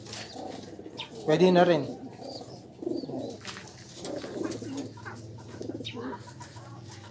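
Pigeons coo softly in a loft during recovery after deworming treatment, a burst of low throaty cooing standing out near the start while someone talks over faint bird sounds.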